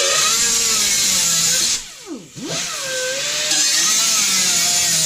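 Power tool cutting the top out of a metal soup can for a homemade stove, a loud continuous whine and grind that dips and bends in pitch as the load changes, then resumes steadily, close up.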